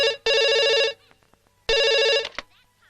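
A telephone rings in a house: two loud electronic ring bursts separated by a short pause, close and clear, with faint sounds in the gaps.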